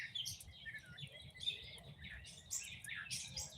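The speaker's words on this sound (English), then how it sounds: "And the birds are just chirping away." Birds chirp and twitter at a campsite outdoors, with quick, overlapping calls that come and go throughout. They sound faint and distant over a low, steady background rumble.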